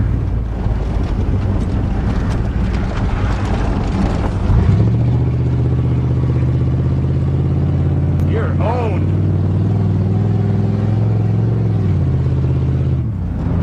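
A 1988 Chevy truck engine on a road test drive, a steady loud drone that drops and settles as the transmission shifts early into a lower-rev gear, with wind rumble throughout and brief talk partway through.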